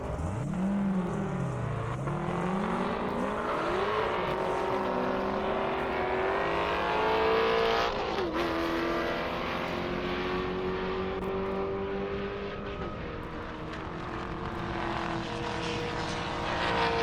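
A Chevrolet Camaro races down an airstrip, its engine a steady, loud roar with pitch sweeping up through the gears and holding high as the car passes, with no talking.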